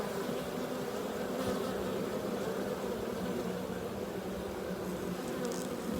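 Honey bees buzz in a steady, close swarm, a continuous droning hum that carries through the whole stretch without talk.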